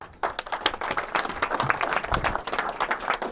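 A modest audience at a VES London event claps for Hugo Guerra, scattered individual hand claps forming light applause that starts abruptly and continues at moderate distance.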